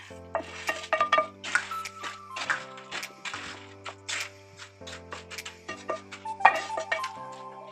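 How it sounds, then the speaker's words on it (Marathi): A spoon clinks and scrapes against a pot as jaggery and sugar syrup is mixed into gond ladoo mixture, in irregular bursts of metallic clatter over faint steady tones. "आपण सर्व पाक साहित्यामध्ये टाकत आहे."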